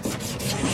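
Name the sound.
sanding bondo on car body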